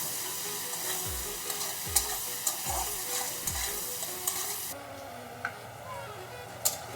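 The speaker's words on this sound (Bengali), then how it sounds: "পেঁয়াজ কুচি দিয়ে দিলাম" Chopped onion frying in a pan for a spicy brinjal dish, with a steady close sizzle broken by repeated scraping stirs and spoon taps, the sizzle thinning toward the end.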